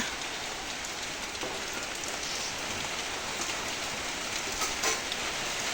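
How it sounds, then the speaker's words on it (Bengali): Medium rain falls steadily, a constant even patter and hiss of drops on surfaces, fairly quiet and without any talk. "এখন বৃষ্টি শুরু হয়েছে মানে বেশি জোরেও না মানে মিডিয়াম মিডিয়াম বৃষ্টি হচ্ছে"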